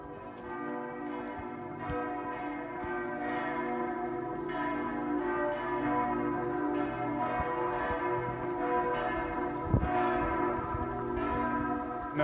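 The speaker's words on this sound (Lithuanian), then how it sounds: "Lietuvos liuteronų bažnyčių varpai skambėjo" Church bells of a Lithuanian Lutheran church ring continuously, layered tolls sustaining a dense, resonant drone with occasional louder strikes, heard alone without voices.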